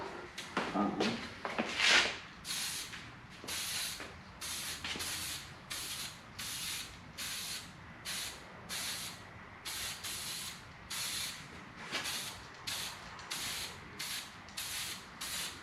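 Spray paint hitting tabletop miniatures in quick short bursts, a dozen or more evenly spaced hissing puffs with a rattling can shake near the start, close and fairly quiet with no speech.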